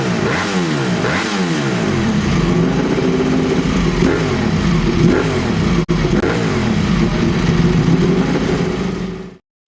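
A water-cooled 90-degree V4 motorcycle engine revs hard through repeated rising and falling sweeps, loud and sustained with a brief dip near the end before cutting out.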